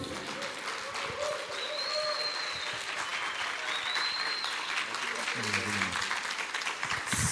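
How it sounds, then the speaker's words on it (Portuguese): An audience at a sales and public-speaking event gives warm, sustained applause to welcome a speaker, steady clapping that fills the room, with scattered voices and a brief whistle-like tone over it. "Eu quero que vocês recebam com energia, com a calorosa salva de palmas"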